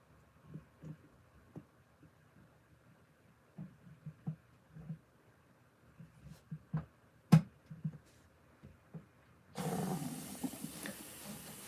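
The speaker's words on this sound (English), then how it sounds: "Starting up on the rinse now" An LG ThinQ MEGA Ultimate washer on a darks cycle starts its rinse: after faint scattered clicks and sloshes, water abruptly begins rushing in with a steady hissing fill that continues to the end.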